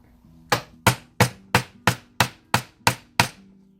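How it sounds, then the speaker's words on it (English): Nine evenly spaced, sharp thwacks ring out as a rawhide mallet strikes wire on a metal dapping block, each hit close and crisp with a short ring over a faint background hum. "I'm going to use a rawhide mallet,"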